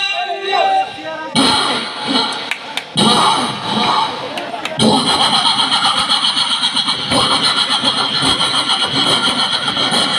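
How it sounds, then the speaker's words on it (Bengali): A push-started car's engine catches and settles into a loud, steady running drone, preceded by bumps and shouting voices nearby. "এবার পিছন থেকে গাড়ি জোরে ধাক্কা দিলে স্টার্ট হয়"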